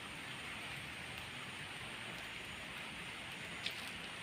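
Heavy rain falls steadily outdoors as a continuous broadband hiss of drops on surfaces, with no talk and one brief louder patter near the end.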